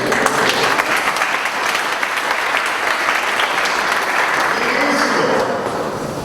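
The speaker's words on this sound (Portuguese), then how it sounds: "Palmas do seu Clóvis." A church catechesis gathering breaks into loud, close applause for an elderly man, dense clapping holding strong for several seconds before easing slightly at the end.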